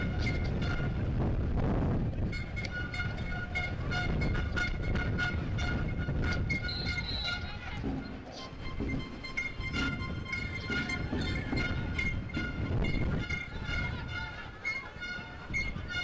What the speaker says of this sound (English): Well, it's a horn.